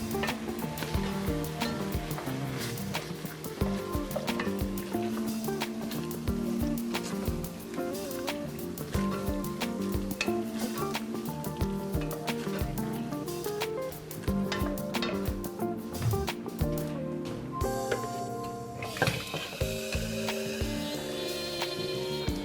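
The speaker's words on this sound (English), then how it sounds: "This is gonna go right in here as well. And we'll give this a good stir." A spoon stirs chicken chili with a dried chili base in a pot, giving steady scraping, clinking and soft sizzling at close range throughout, with no voice.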